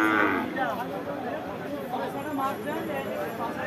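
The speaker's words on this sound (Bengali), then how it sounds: "জি শাহিওয়াল বাছুর" A Sahiwal calf moos in drawn-out, wavering calls amid the chatter of a crowded cattle market.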